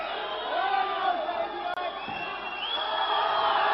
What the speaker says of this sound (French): hurlement de la foule qui est pour le juste